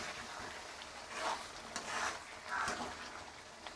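Potato and egg curry is stirred in a pan with a splash of water, making a quiet bubbling sizzle broken by a few scraping swishes of the spoon, close but faint, with no talking.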